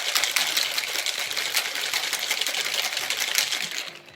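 Dry Bloody Mary ingredients are shaken hard in a closed container, giving a dense, continuous granular rattle and swish, close and fairly loud, that fades out at the end.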